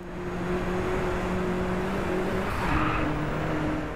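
Race cars in the video game Driveclub, a steady droning engine roar with a sustained hum and a brief passing swell, continuous and moderately loud.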